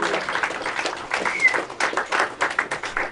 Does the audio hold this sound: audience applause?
yes